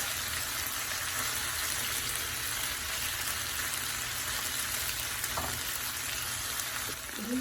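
Ginger-garlic paste, turmeric and chili fry in hot oil with a constant dense sizzle and crackle, steady throughout, with a faint clink near the end.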